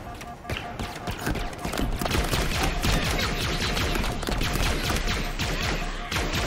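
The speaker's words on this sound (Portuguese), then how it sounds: "Alguém atirando em mim, não tô vendo de onde tá vindo" Rapid gunfire aimed at the player in an Xbox shooter, played with a wireless controller adapter on PC: dense, continuous bursts of shots with thuds throughout, loud and close, with a voice talking over them.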